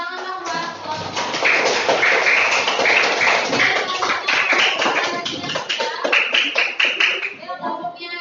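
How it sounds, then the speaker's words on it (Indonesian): A class claps for a group of students, a dense, steady patter of many hands filling the room at close range for several seconds, with a few voices faintly mixed in. "Oke, beri tepuk tangan dong buat kelompok."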